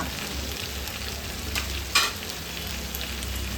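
Garam masala, roasted cumin, turmeric and pepper powders stirred into a hot pan for brinjal green masala, with a steady low sizzle and soft scraping of a spoon, plus one sharper clink near the middle.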